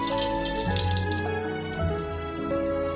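Half a cup of oil pours into a pot on medium-high heat, a close, continuous liquid gurgle and splash lasting a few seconds with no talking.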